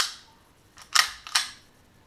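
Two sharp mechanical clicks about 0.4 seconds apart come from the trigger resetting on a KWA ATP Auto airsoft pistol set to semi-auto, close and crisp against a quiet background.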